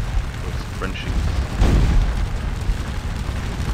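Canister cannon fire in the Scourge of War Waterloo battle game rolls as a dull, sustained boom under a steady wash of battle noise, with one heavier low thump swelling midway.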